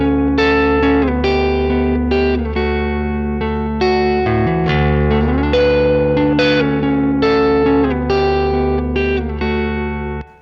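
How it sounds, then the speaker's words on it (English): Electric guitar runs through a clean TONEX amp model with added reverb, ringing sustained chords and picked notes with a slight slide midway. The sound is close and full, with a reverb tail that lingers and then cuts off at the end. "we can go to something like this and pop a little bit of reverberation on it"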